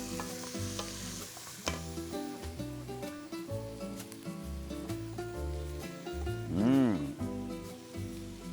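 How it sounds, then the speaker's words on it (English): Onions, garlic and pine nuts sautéing in a pan for Turkish stuffed vine leaves: a continuous sizzle with stirring, set beneath prominent background music. "we're gonna saute the onions, the garlic, and I'm gonna add some pine nuts"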